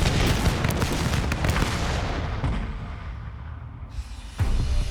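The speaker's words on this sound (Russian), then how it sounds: "И тут русские открыли огонь." A musket volley in a reenactment of the War of the Polish Succession: a dense burst of overlapping gunshots and booming reports, loud at first, thinning out, then another crack near the end.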